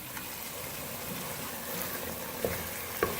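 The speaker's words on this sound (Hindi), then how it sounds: "प्याज, लहसुन, अदरक के पेस्ट में गोश्त को अच्छी तरह से फ्राई कर लिया है" Beef browning in a paste of onion, garlic and ginger gives a steady close sizzle and frying hiss, with a couple of brief stirring clatters near the end.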